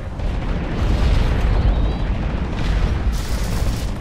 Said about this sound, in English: I think he just misses grenade on someone else.